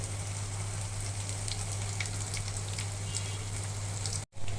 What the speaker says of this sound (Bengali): এখন ফুলকপিটা ফ্রাই করে নেব